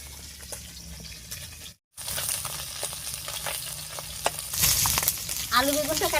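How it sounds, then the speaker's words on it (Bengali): Fresh river fish sizzle in oil over a damp, smoky clay wood-fired stove, with a continuous crackling fry and a brief dropout, and a short voice-like sound near the end. "আলু বেগুনটা কাটতে কাটতে মাছগুলো ভাজা হয়ে গেছে।"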